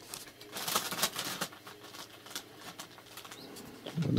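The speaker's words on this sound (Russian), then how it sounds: "Вот они у меня по комнате летят" Domestic pigeons flying around inside a room: fluttering wingbeats come in bursts, with soft cooing and a few chirps close by, and no one talking.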